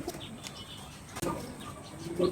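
Large fancy pigeons coo softly close by, with a sudden burst of wing flapping midway, all fairly quiet against a light background hum.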